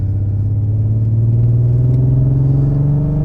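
A Nissan Skyline GTR pulls hard on an open road, its loud, close engine note rising steadily in pitch over a continuous rumble with no voices.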